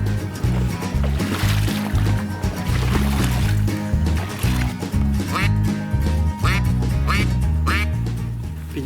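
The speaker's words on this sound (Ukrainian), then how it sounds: "Хлопці в болоті качок аж чорно." Wild ducks quack loudly and repeatedly in a marsh during a hunt, the calls overlapping in a dense, rhythmic chorus close by, with water sloshing around them.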